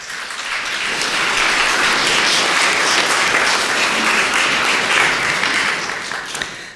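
A church congregation breaks into warm, sustained applause, many hands clapping together in a dense, even wash that swells quickly, holds steady and then tapers off.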